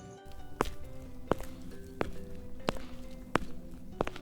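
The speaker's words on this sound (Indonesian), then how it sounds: "ada suara langkah kaki lain yang datang." Footsteps approach in a slow, even rhythm, six distinct thuds spaced under a second apart over a steady low background hum, with no talking.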